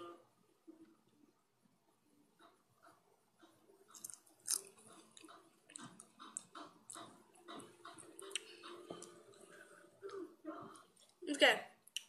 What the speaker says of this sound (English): I will be eating the whole thing